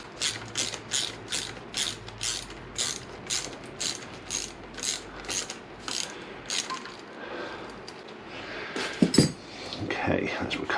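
A ratchet wrench undoes an 8mm bolt on a Honda VFR800 brake line, with steady rhythmic clicking strokes up close. The ratcheting gives way to clinks of metal parts being handled.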